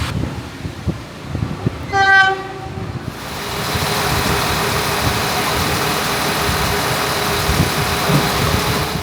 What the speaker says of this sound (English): This time, a train into Galway.